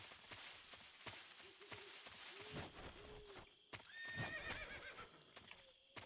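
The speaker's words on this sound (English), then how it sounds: "Did I just fucking hear a horse?" A horse in the Metal Gear Solid 3 video game whinnies several times amid soft clip-clopping hooves, heard fairly quietly with sharp clicks and other game sounds scattered through.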